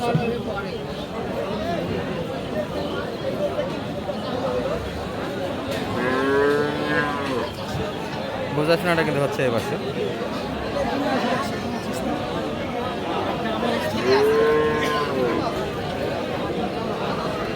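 Sahiwal cows with calves low at a busy rural cattle market in Aftabganj, Dinajpur, with two or three drawn-out moos standing out over steady crowd chatter and someone talking near the microphone.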